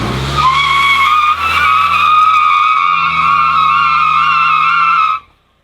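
A Nissan Silvia S15 doing a burnout with both rear tires spinning, giving a loud, sustained high-pitched tire squeal over engine roar for about five seconds before cutting off abruptly.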